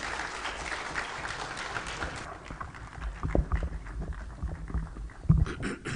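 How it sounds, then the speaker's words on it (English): Audience applause greeting Kenya's Deputy President Kithure Kindiki at a high-level meeting in Mombasa, a steady crowd clapping that thins after a couple of seconds into scattered claps and background noise. "A hand of applause, please"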